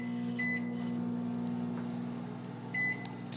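A microwave oven heating coffee hums steadily with a low drone, with two short electronic beeps, one early and one near the end, and no talking.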